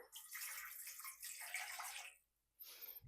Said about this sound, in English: Here I am adding 2 cups of tap water.